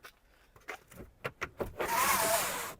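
Skoda Octavia trunk luggage cover blind in use, a few soft clicks and knocks followed by a smooth, close whirring slide as the blind moves, with no talk.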